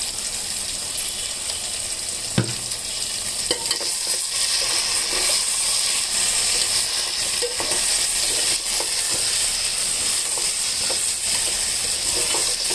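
Chili powder sizzling in hot oil in a pan, a steady frying hiss with occasional stirring scrapes, close and continuous for the whole stretch.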